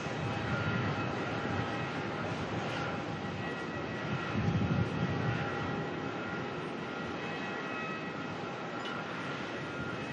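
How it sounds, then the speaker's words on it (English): A Qantas Boeing 737 on final approach into Melbourne from Adelaide, a steady broadband jet roar holding level throughout, with a brief swell near the middle, heard alone without talk. "Number 1 being this Qantas 737 coming on in from Adelaide"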